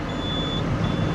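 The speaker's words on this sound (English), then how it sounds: "Sitting in the semi, gonna get fired up, building up some air pressure right now, so that's what the beeping is." A parked semi truck, just started and building up air pressure, gives a steady high electronic beep, two long tones separated by a short gap, over the low rumble of the idling engine.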